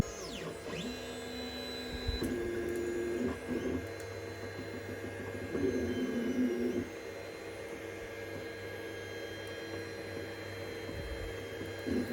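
A 3D printer starting a print, its stepper motors whining and humming in shifting tones over a constant fan drone, with occasional clicks, close and steady.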